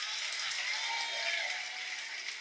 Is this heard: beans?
no